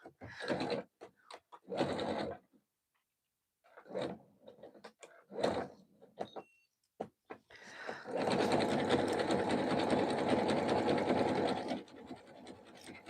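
A sewing machine stitches a jelly roll rug in a steady, continuous whir lasting several seconds, close and loud, preceded by brief bursts of handling and fabric movement.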